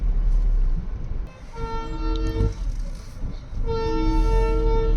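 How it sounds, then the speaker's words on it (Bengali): A train sounds its horn twice with long, loud toots near a hill road while held up in a traffic jam on the way to Darjeeling. A low rumble of traffic runs underneath the horn. "ট্রেন এসে গেছে, ট্রাফিক জ্যামে ট্রেন আটকে আছে"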